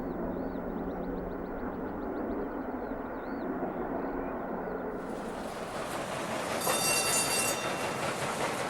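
King Edward I steam locomotive running along the line, a steady rumbling roar with wheel clatter, growing louder toward the end as a high ringing warning bell sounds.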